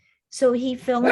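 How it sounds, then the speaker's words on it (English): A pet dog gives a short bark indoors, mixed in with a person speaking nearby, the voice and the bark overlapping across about a second. "That's my dog."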